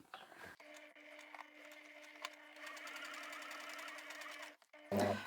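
A Janome-type domestic sewing machine runs steadily and slowly while stitching across a seam during a clothing alteration, its motor whir continuous for several seconds before stopping, with a brief voice at the end.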